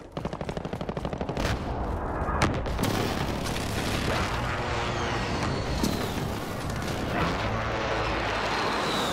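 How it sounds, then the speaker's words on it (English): A precision airstrike in Call of Duty Modern Warfare multiplayer: rapid bursts of gunfire open the clip, followed by heavy explosion booms and continuous combat noise, loud and close, with no talk. "Friendly precision airstrike on the way"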